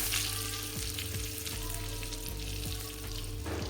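Butter melts and sizzles in a pan for sarson ka saag, a Punjabi mustard greens dish, with a steady close frying hiss and light crackle throughout and faint stirring knocks.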